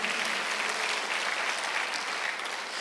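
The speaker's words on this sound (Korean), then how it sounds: "박수" Dense, continuous applause from a church congregation at a Sunday worship service, steady and fairly loud for the whole stretch with no talk over it.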